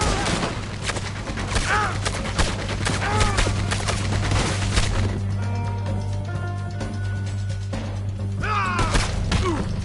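Gunfire in a video game: dense, rapid volleys of shots in fast bursts fill the first half, then thin out to scattered reports, with voices calling out between them.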